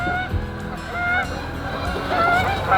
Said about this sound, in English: Do you hear the geese?